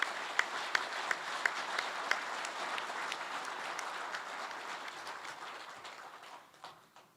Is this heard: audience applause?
yes